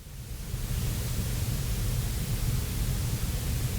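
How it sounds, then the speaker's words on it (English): Steady hissing white-noise static fills the scene in the video game Fear the Spotlight, a dense continuous rush with no voices over it. "Can we just stop the white noise, please?"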